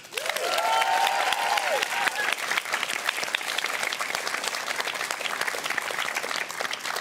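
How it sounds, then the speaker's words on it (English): A theatre audience at a Strictly Come Surrey dance show gives a huge round of applause for the dancers and couples. Loud, sustained clapping fills the room with a few cheers, and a brief voice rises early on. "Could we have another huge round of applause for all of our fantastic dancers and couples?"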